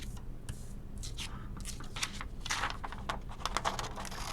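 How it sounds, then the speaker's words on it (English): Scissors cutting a template out of copy paper for an origami star, a run of small crisp snips and paper rustles close by, spread irregularly over a few seconds. "Let's first cut this template out using scissors."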